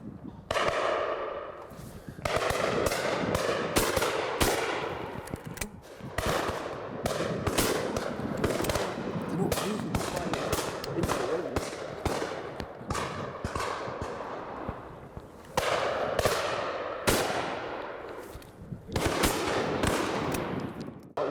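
Rapid volleys of shotgun blasts at a driven game shoot with beaters, sharp cracks firing in close succession throughout, loud and near with some echo.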